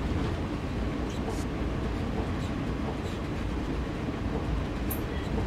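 Train Sim World video game train with the 40% brakes applied: a steady, loud low rumble of rolling stock continues without a break, with faint high squeal-like streaks near the start and end.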